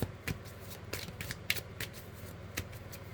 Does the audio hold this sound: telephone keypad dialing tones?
no